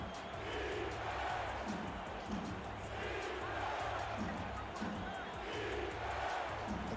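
Stadium crowd in a football video game, Atlanta at Louisiana, a continuous far roar of cheering with swelling waves, a commentator's voice running over it.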